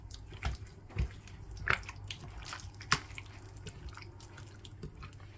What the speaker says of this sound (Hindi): अब इन सारी चीजों को मिक्स कर लेंगे